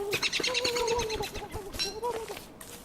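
In Don't Starve, a cartoonish turkey gobbles in quick, warbling, chirpy bursts, repeated several times close and fairly loud.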